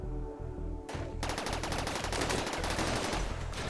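Rapid burst of gunfire in the colony game Rimworld, a steady rattle of shots following a brief lead-in, loud and continuous with no talking.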